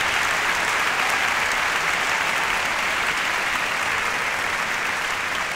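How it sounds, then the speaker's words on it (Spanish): Sustained audience applause at a charity Christmas concert, a thick, even wash of many hands clapping that continues steadily throughout without voices. "Por favor, quiero pedir un fuerte aplauso para Víctor Elías, el pianista,"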